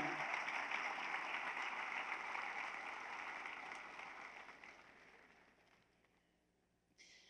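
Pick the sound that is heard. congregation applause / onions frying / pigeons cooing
congregation applause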